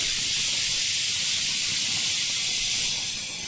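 A kitchen pressure cooker whistle releasing steam, a loud continuous high hiss held steadily for several seconds before tapering slightly at the end, with no talking.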